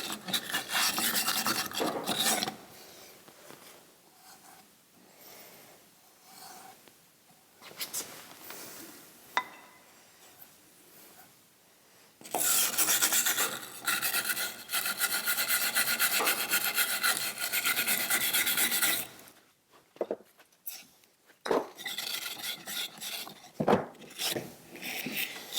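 A wide brush scrubs caked crud and wood debris from the back of a 1946 Wilton Bullet metal vise during restoration, giving loud, steady rasping strokes in long bursts that break off into short pauses.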